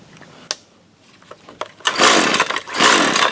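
A Husqvarna 128CD string trimmer with a small two-stroke engine, being primed and fuelled during a repair, gives a few sharp pull-start clicks, then sputters into a loud, rough, uneven buzzing run close by.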